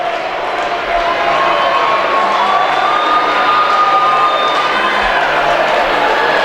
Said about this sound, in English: this crowd is ravenous